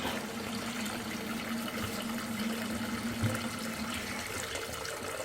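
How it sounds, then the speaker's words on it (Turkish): Dirty water pours steadily out of a Demirdöküm Tayros combi boiler during cleaning, a continuous close splashing gush with a faint low hum beneath and no speech. "Çıkan pis suyu"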